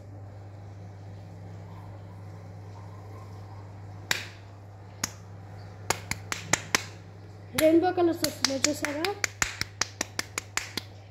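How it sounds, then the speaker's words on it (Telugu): Sharp hand claps aimed at a sound-activated light gadget, first a few single claps spaced apart, then a quick flurry of claps, heard close over a steady low hum while a person talks. "ఫ్రెండ్స్ ఇప్పుడు నేను క్లాప్స్ కొడితే ఇది వెలిగిద్ది అన్నమాట"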